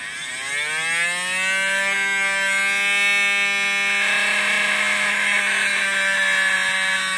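A small 12-volt DC motor runs steadily on its rated supply, giving a continuous whine that rises slightly in pitch as it spins up, then holds a constant tone throughout, close and loud, with no talking.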